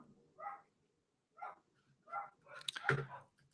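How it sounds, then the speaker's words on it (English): A dog barks indoors in four separate bursts, spaced roughly a second apart, with the last bark loudest and mixed with a sharp knock. "Oh boy, here the dog's going."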